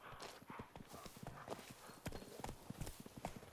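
Horse hooves clip-clop in The Witcher 3 as a mount trots up, a run of close, loud rhythmic hoof strikes over a busy game soundscape, with a brief whinny.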